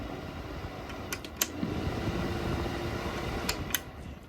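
A three-speed, low-power cooling fan runs on a boat, giving a steady, even whir throughout, with a few faint clicks and taps near the start and end.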